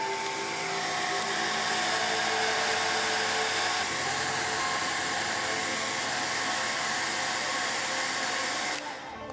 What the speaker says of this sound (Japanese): 水筆はきれいにしてドライヤーを使って乾かします